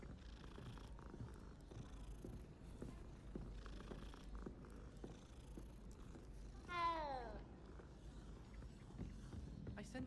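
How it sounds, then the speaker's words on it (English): Cats in the Hogwarts video game, with a continuous low purr throughout and a single clear, near meow rising sharply around the middle, set against a soft ambient background with no speech. "There's a lot of cats around here."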